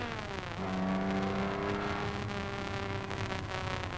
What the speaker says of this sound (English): Moving off. Accelerating hard up to Dunlop Bridge.